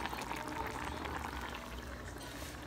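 Chicken stroganoff with cilantro bubbles in a pot, a soft steady simmering hiss with faint popping and liquid sounds, fairly quiet and continuous, no talking.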